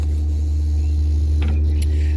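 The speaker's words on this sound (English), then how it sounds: "of course they've got a massive generator, so that's what you're hearing." A massive backup generator runs after a power outage, producing a loud, steady low hum and engine rumble that stays constant throughout, with faint clatters over it.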